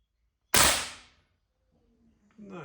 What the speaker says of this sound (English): That's a nice pellet gun.